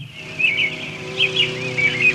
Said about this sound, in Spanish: ¿Pájaros piando?